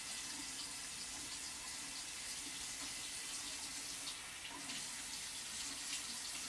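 Tap water runs steadily into a sink, with soft wetting and washing sounds as a clean gauze pad is soaked and used to clean arm lift incisions, a faint continuous hiss throughout.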